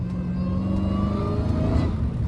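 A Dodge Hellcat Redeye engine revs on a wet road in the rain, a loud, close, sustained growl rising in pitch as the wheels slip.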